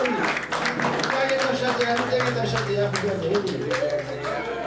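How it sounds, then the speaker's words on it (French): Audience applause in a Baptist church in Fort Myers, Florida, a steady wash of clapping sustained throughout with loud music and voices mixed in. "Un gros applaudissement pour c'est Elange."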